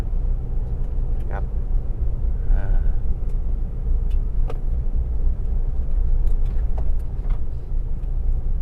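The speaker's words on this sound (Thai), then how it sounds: "ความเร็วผมใช้ประมาณ 50 กับทางฝุ่นนะครับ" A Mitsubishi Triton 2.4 two-wheel-drive, four-door lifted pickup drives at about 50 km/h on a loose gravel dirt road. Steady engine and road rumble fill the cabin throughout, with someone talking over it.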